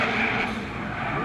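Drift car engines roar with a broad, hissing wash of noise during D1NZ Pro-Championship qualifying at Wellington Speedway. The sound is short and moderately faint, as if heard from a distance.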